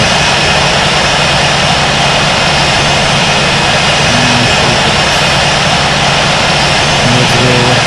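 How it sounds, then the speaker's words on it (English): Delta airliner jet engines roaring on takeoff from runway 22 right at John F. Kennedy airport in the Infinite Flight simulator, a loud, steady broadband engine rumble throughout with no talking. "Delta 2129 Heavy is taking off runway 22 right"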